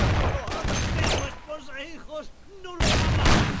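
Gunfire erupts during a church shootout at a funeral in the Mafia video game, with dense bursts of shots at the start and again near the end, and a voice-like tonal passage in between.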